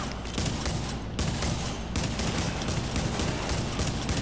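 Rapid automatic gunfire in the shooter game Tom Clancy's The Division cracks in loud, dense bursts, with a brief pause before the firing picks up again and continues steadily.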